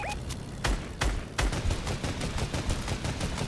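Gunfire in Fortnite OG ranked Unreal play: a few sharp separate shots, then a rapid burst of close, loud automatic fire that rattles on to the end.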